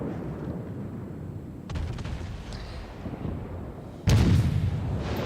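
Ship guns firing in the naval video game World of Warships, a rumbling ambience broken by a few muffled booms and a sharp loud blast near the end, heard alone without talk.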